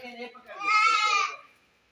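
A male goat (bakra) on a farm gives one loud, quavering bleat close by, wavering for about a second and then trailing off into quiet.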